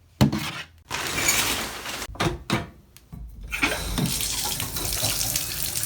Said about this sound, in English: So I'm filling up my bathtub